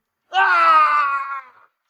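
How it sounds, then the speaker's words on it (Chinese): A man's pained scream in a Chinese-language audio drama, one sustained cry of about a second and a half that rises sharply, stays loud and close, then trails off, with no other sound around it. "王院长惨叫一声，刀掉落在地"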